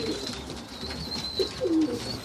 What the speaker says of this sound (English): So I have around 60 pigeons here.